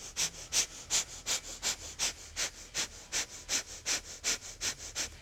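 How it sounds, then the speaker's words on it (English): Rapid, rhythmic breath of fire yoga breathing, about fourteen sharp nasal exhales pulsing evenly in a steady run, close and fairly quiet with no talk. "breath of fire. Big inhale."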